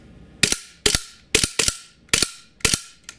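A KWC Desert Eagle .50AE gas blowback airsoft pistol on green gas fires a quick series of sharp, crisp pops, roughly half a second apart, close and alone with no talking.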